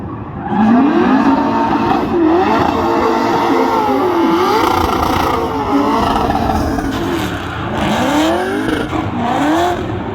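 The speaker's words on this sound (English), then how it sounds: "Forrest Wang in that S chassis" Nissan S-chassis car drifting at a SEMA event, its engine revving hard and wailing in continuous rising and falling sweeps through a transition, loud and close with a crowd-like roar behind.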